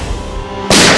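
A single sharp gunshot-like bang cracks out loudly after a low background hum, its broadband burst sustaining to the end, heard at a village crime scene.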